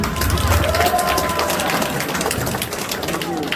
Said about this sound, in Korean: 자, 우리 장명 목사님 나올 때 박수로 좀 맞아주세요